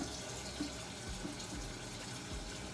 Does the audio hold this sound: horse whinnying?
no